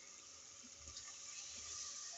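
Water pours steadily onto soaked rice for khichdi, a continuous splashing rush heard up close and alone.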